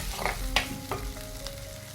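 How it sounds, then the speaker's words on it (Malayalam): Thin-sliced half tomato sautéing in a hot pan for coconut-based fish curry, a steady close sizzle with a few spoon scrapes and stirring clicks. "ഒരു പകുതി തക്കാളി കനം കുറച്ചെല്ലാം കൂടെ ഇട്ടു. ഇവിടെ നല്ലപോലെ ഒന്ന് വഴറ്റിയെടുക്കണം."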